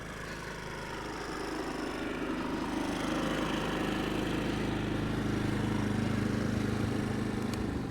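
A generator runs at night beside a camping truck, a steady, droning engine hum with a broad rushing noise, continuous and moderately loud throughout with no talk.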